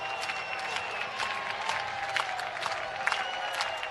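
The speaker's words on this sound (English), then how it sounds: "Crowd making some noise" A college baseball crowd at an Iowa at Nebraska game claps and cheers in a steady, moderately distant roar of applause with scattered sharper claps throughout.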